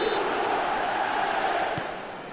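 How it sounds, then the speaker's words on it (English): Dense stadium crowd roar from an eFootball 2025 match on PS5, a steady broadband wash of cheering and chanting that holds level, then eases slightly near the end, with no commentary over it. "The crowd are calling for this to be put to bed."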